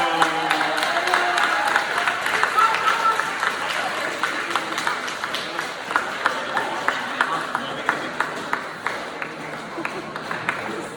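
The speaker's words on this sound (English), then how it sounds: "I want you guys to give a nice big round of applause for Chris Lucero." Applause from a school audience at a Buckeye Middle School awards ceremony, a dense round of clapping that gradually thins into sparser, distinct claps toward the end.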